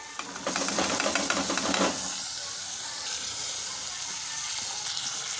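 Grated gooseberry, chili and ginger sauté in a hot pan, with a dense steady sizzle and hiss that is busier at first with stirring scrapes, then settles into an even close frying sound.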